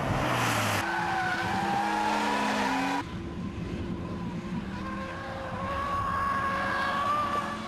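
A modified Ford Falcon XR6 Turbo and a Nissan Skyline R34 GT-T race on a track, loud close engine howls with rising and falling gear-change pitch and squealing tyres, one car passing then another taking over.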